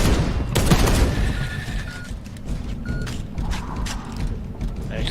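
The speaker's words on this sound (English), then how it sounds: "I accidentally shot my own servo scope." A gunshot striking the player's own servo scope in the video game Space Hulk: Deathwing, a loud burst of fire and impact followed by whirring, ratcheting mechanical clicks and faint electronic tones.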